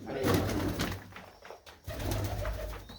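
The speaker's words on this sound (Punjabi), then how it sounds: "ਲਗਭਗ ਸਾਰੀਆਂ ਦੀਆਂ ਸਾਰੀਆਂ ਕਬੂਤਰੀਆਂ ਹੀ ਨੇ" Pigeons, nearly all hens, coo in a loft at Khosa Pando near Moga, low rolling calls repeating close by, with a brief dip in the middle before the cooing resumes.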